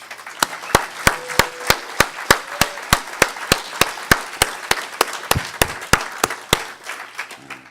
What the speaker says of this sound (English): he deserves a large round of applause